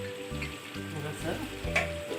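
Mushrooms sautéing in a pan with a steady close sizzle and frying crackle, broken by periodic stirring scrapes and a brief louder spatter near the end.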